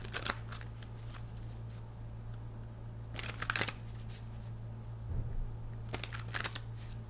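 Tarot cards are shuffled quietly in several short bursts of riffling and sliding, separated by pauses, over a low steady hum.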